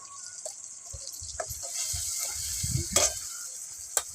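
Turmeric and salt frying in a pan over a wood-fired clay stove, giving a steady hiss of sizzling. Stirring adds soft scrapes and a few sharp clicks, close and moderately loud.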